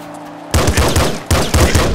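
Rapid bursts of shotgun and revolver fire from the video game Nuclear Throne, two clusters of loud, punchy shots following a brief quiet start.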